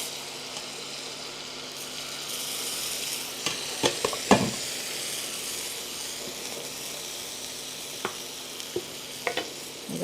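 Hot meat broth hits softened onions in a pan, giving a steady close hiss of sizzling with a few sharp clinks and stirring scrapes scattered through it.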